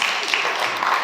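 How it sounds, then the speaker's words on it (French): An audience applauds at a magazine launch event in Paris, a brief burst of dense, steady clapping. "Bravo, on peut applaudir."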